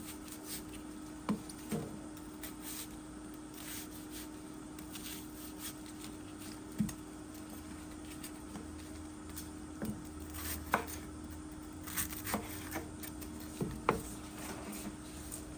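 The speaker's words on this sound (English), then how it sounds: "First thing I'm going to chop up is the onions, and I'm going to make it in small cubes." A knife taps on a cutting board while onions are chopped into small cubes, faint scattered chops with an irregular rhythm over a quiet kitchen hum.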